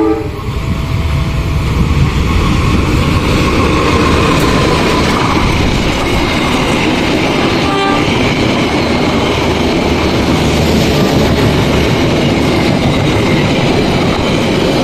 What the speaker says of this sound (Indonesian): Mutiara Timur dengan rangkaian ekonomi New Generation dan eksekutif melintas di stasiun Randu Agung